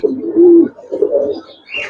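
Giribaz coloring pigeons coo nearby, two loud, low rolling coos followed by a brief higher note, close and clear with no voices.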